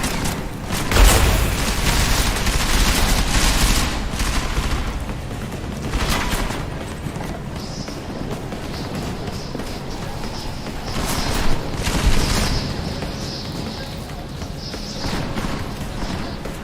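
Gunfire in the video game Deus Ex: Mankind Divided, with loud bursts of shots and blasts over a dense, rumbling combat backdrop. The heaviest volleys hit near the start, with further flare-ups midway and later.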